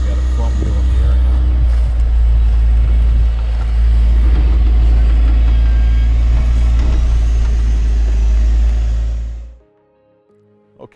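An Ineos Grenadier prototype SUV crawls off-road over a mound at an angle, its engine a steady, loud low drone under a voice, before cutting off abruptly near the end.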